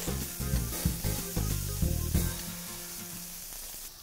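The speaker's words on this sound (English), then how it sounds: "we're gonna start to cook the vegetables one by one." Onion and other vegetables frying in a pan for Korean japchae, crackling loudly at close range with bursts of sizzling and scraping stirs that settle into a quieter hiss toward the end.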